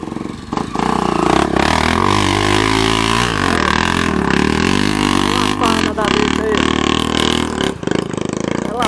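A Honda XRE300 motorcycle engine runs steadily and loudly throughout, its pitch rising and falling as the throttle is worked.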